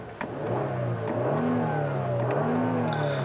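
A 2017 Genesis G90 with a 3.3-liter twin-turbo V6 revs up from idle, the engine note rising and falling in two smooth swells, close and loud with no talk.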